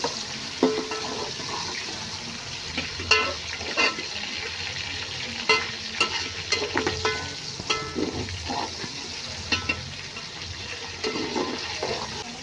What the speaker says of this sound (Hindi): तो इसे हमने तकरीबन 2 मिनट जो है अच्छे से भून लेना है।